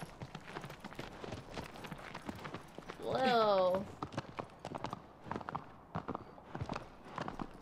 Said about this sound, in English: You're the hardest working horse I've ever seen.